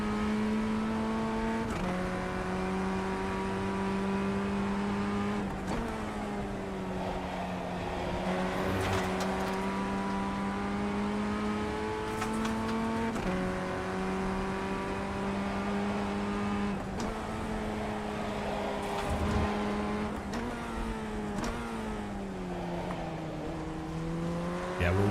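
A Formula Ford race car engine in LMU drones steadily throughout, rising in pitch through each gear and dropping sharply at every upshift in a repeating cycle of acceleration.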